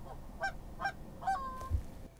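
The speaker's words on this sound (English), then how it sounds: "Oh, I just heard a goose." A goose honks three times at an even pace, faint and distant in a quiet outdoor setting during a waterfowl hunt in Nebraska.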